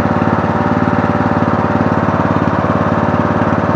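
A Murray Select 17.5hp riding mower with a 42-inch deck idles steadily nearby, its engine thumping in a fast even pulse throughout with no talking.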